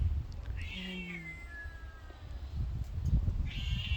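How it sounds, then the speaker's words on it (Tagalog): Angry cat meowing at a dragon fruit harvest, two drawn-out, rising then falling yowls near the start and another beginning at the end, moderately close over a low outdoor background rumble. "Etong aking pusa, ayan, nagagalit siya, nagagalit."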